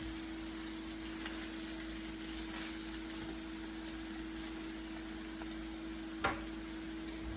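Lentil meatballs frying in a pan, giving a soft, steady sizzle and crackle at low level, with a faint utensil knock near the end and no talk.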